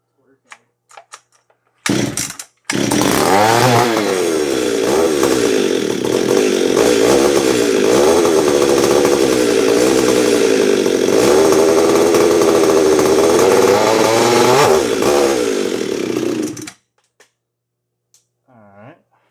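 A custom-built Echo CS9300 chainsaw gives a few short pulls and clicks, then fires into a loud, close engine roar that revs up and down for about fourteen seconds before cutting out, with a voice murmuring briefly after it stops.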